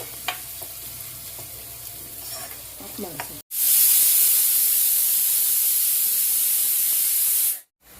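Onions fry in oil during home cooking, first a quieter sizzle with a few clinks, then a sudden loud, steady hissing sizzle that continues before cutting off abruptly.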